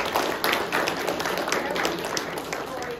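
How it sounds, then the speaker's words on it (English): An audience claps in sustained, dense applause for three speakers at a live talk event, steady and fairly loud throughout with no gaps. "one more round of applause for all of you"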